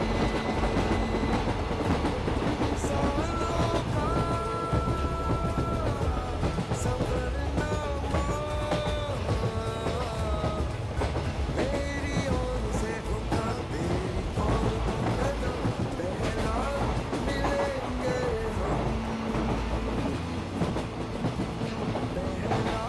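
An Indian Railways train runs at steady speed, its continuous loud rumble and rhythmic wheel clatter filling the whole stretch, with tonal ringing and squealing threaded through.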